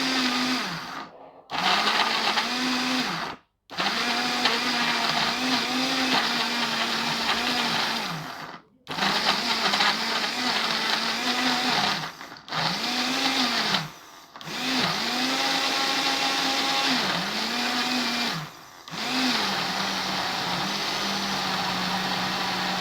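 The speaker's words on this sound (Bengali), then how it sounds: "বাট আগে এটা ভালো করে ব্লেন্ড করে নেই" Electric blender whirring through raw green mango juice in repeated loud bursts of several seconds each, separated by brief stops, the motor pitch dipping and recovering as it churns; no talking.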